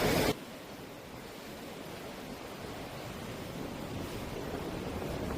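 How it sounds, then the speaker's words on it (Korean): Rough sea waves breaking at a beach at Odori, Heunghae in Pohang, a steady low rushing wash of surf that sounds distant and faint, following a brief louder burst at the start. "파도가 너무 심해요"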